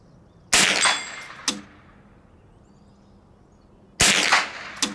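Two sharp, loud rifle reports from a Tippmann M4-22 at an outdoor shooting range, the first followed quickly by a smaller crack, then a pause before another shot, each with a short ringing tail.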